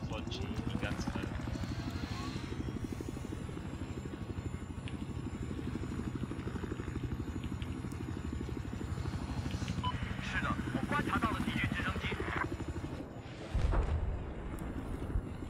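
A helicopter in Battlefield 4 multiplayer gives off a steady rapid rotor chop, with gunfire and other battle sounds around it, under excited voices talking throughout.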